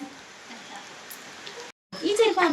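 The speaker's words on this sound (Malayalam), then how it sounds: "മഴ പെയ്തു." Steady rain falls at night behind a house, a close, even hiss of drops on surfaces. After a short cut, a voice is heard over the continuing rain.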